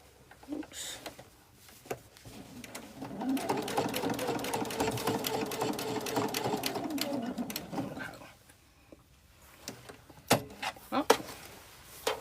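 A sewing machine stitches a scrappy quilt in a steady run of rapid, close whirring, with short stops and starts and some handling clatter around it, plus brief low talk.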